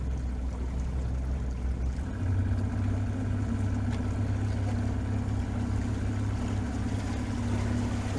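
A 21ft motor boat's engine drones steadily at sea, loud and close, with a slight shift in pitch early on before settling into a constant hum. No one speaks.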